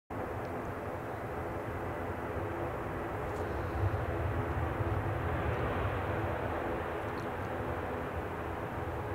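A Norse Atlantic Boeing 787 Dreamliner airliner at Manchester Airport gives a steady, broad engine roar that holds at a fairly even loudness throughout, heard from some distance with no talking.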